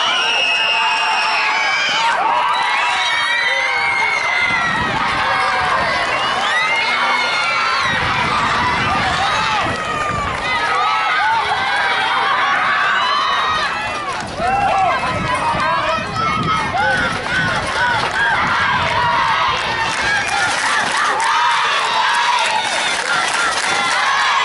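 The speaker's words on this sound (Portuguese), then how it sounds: "Torcida particular da Thaís." Home crowd cheering and shouting for batter Thaís during the final inning of a Maringá versus Nikkey Curitiba baseball game, a steady loud roar of voices with yells and children's shouts running throughout.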